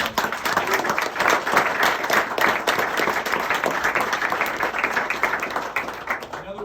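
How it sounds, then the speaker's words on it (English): Audience applause at a retirement ceremony, a dense, steady crowd of clapping hands that stays loud and even for the whole stretch before tapering slightly at the end. "If we can give her a round of applause."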